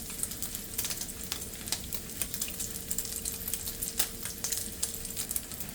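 Bacon strips for cheeseburgers fry in a pan with a steady, close crackling sizzle and scattered sharp pops, with no talking.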